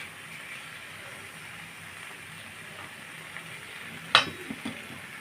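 Eel fish curry, a Bengali chorchori, cooks in a pan with a soft, steady sizzle and bubbling, then a few brief clinks and knocks near the end.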